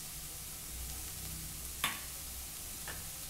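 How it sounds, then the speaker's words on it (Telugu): Cabbage egg burji with spring onions frying in a pan, a faint, steady sizzle with one sharp clink of a utensil partway through and a softer tap near the end. "ఒక్క నిమిషం ఫ్రై చేసుకుందాం"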